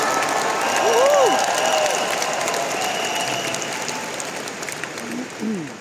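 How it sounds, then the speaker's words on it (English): Audience at a talk giving a steady round of applause, a broad continuous patter of many hands with a couple of faint voices rising over it before it tapers off. "Can we all give ourselves a round of applause today to all the successful people in the house?"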